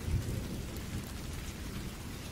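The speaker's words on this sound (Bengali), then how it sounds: "বিদ্যুৎ চমকায় জোরে জোরে, সাথে বজ্রপাতের আওয়াজ" Thunder rumbling with steady heavy rain in a stormy night scene for a Bengali village horror story set by a marsh and jungle, a low continuous roar with a deep boom near the start, no voices.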